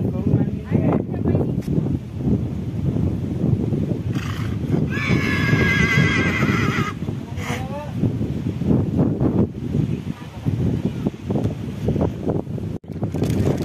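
A horse neighs in a clear, rising whinny at a rainy Chikhaldara hill station horse-ride spot, heard near and loud over wind noise and the murmur of people talking.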